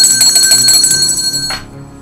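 A bright bell rings in rapid repeated strikes, loud and close, its metallic tones sustaining briefly before cutting off and fading.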